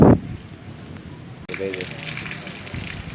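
Heavy rain pours down in a steady, dense hiss that grows noticeably louder partway through, with a brief louder sound at the very start.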